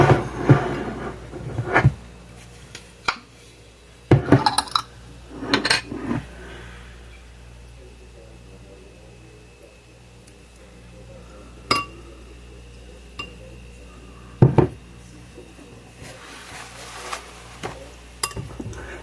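Crab flakes mixed with cocktail sauce in a bowl, sparse scraping and clinks of a utensil against the bowl, coming in short bursts separated by quiet pauses.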